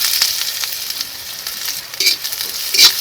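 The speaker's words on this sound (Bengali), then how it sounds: "এই তেলে দিয়ে দিচ্ছি পেঁয়াজ কুচি" Chopped onion fries in hot mustard oil in a wok, a steady crackling sizzle with brief scraping stirs and bursts of spitting.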